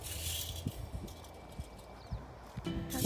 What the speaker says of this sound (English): horses came to visit.